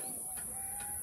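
Chickens in a village pen that used to hold sheep, with two brief soft clucks over a steady background hum, faint and close.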